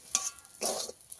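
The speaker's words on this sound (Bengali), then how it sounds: "এটাকে ভালোভাবে অনবরত নেড়ে একটা ডো বানিয়ে নেব" Semolina dough being stirred in a pan with a seasoning of salt, a few short scraping strokes with a brief broader burst midway, close and fairly quiet.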